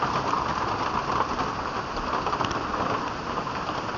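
Heavy hurricane rain drums steadily on a tin cabin roof, a dense, continuous roar of close impacts with no let-up and no voices.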